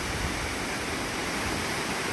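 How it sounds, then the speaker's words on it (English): Rainbow Falls, a very tall waterfall, gives a steady broadband roar of falling water, even and unbroken throughout, with no voices over it. "I think it's the tallest waterfall I've ever seen."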